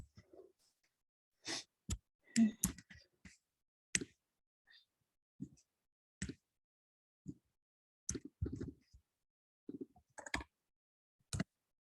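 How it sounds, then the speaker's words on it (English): Laptop keyboard keys click in short irregular bursts of typing separated by pauses, close and fairly quiet, with no talk over them. "My laptop has certain keys that it will click twice."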